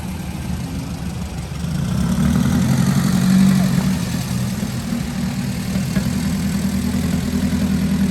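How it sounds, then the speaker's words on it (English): A taxi truck's engine idles nearby in Brazil with a steady, loud, low rumble that swells slightly after the first couple of seconds and then holds even throughout. "This is our taxi back to the station."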